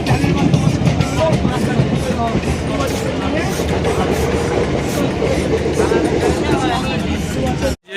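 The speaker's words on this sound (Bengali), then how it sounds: "এই আমাদের ট্রেন ঢুকছে বন্ধুরা" A Kolkata local train rumbles steadily with rhythmic clatter and rattling carriages, loud and close, with people talking underneath the noise.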